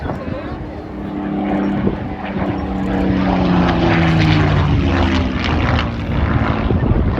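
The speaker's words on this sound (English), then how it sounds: "I was lucky enough to fly a Mark 9 Spitfire just like this." A Mark 9 Spitfire flies past at an air show, its large piston engine giving a loud, steady propeller drone with a shifting pitch. The engine builds over several seconds and stays loud as it passes.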